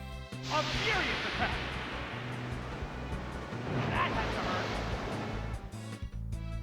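Watery attack effect from the Pokémon Stadium 2 battle game: a loud, sustained rushing surge of water with a second splashing swell midway, playing over steady game music.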